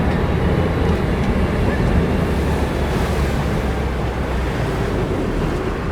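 Steady rushing water and wind noise fill the scene as an amphibious duck boat enters the Wisconsin River, a continuous broad wash, loud and close throughout.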